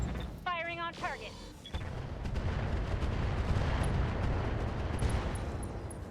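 Medium lasers fire at a Hunchback mech in RogueTech, starting with a rising electronic tone burst and followed by a long rumbling barrage of booming impacts.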